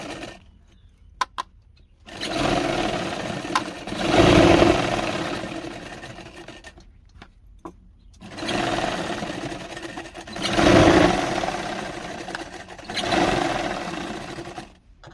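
Bursts of sewing machine stitching on a blouse, close and fairly loud, come in two long runs separated by short pauses, with no talking.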